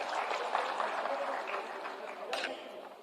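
Loud, sustained applause from a ceremony audience at a live appointment-letter distribution event for teachers, steady dense clapping throughout with a brief sharp burst near the end.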